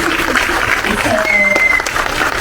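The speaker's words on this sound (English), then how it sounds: "Please let's give her a round of applause." Audience applause for Divya at a conversation event, steady clapping from a crowd that continues under a speaking voice.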